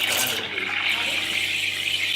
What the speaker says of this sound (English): I'm going to turn the steam arm all the way on, and we get it spinning.